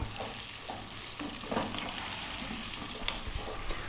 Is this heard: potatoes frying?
yes